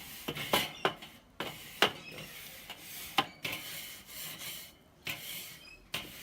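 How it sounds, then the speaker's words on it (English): Scrunched aluminium foil scrubbing barbecue grates clean, a series of sharp scraping rasps in uneven strokes, close and fairly loud with short pauses between. "Just cleaning the grates just quickly."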